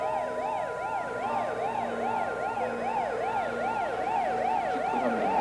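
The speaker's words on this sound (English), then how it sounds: "The ambulance is here." An ambulance siren wails steadily and loudly in a rising-and-falling pattern, holding close and continuous over a low engine rumble with no voices.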